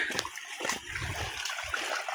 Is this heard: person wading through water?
yes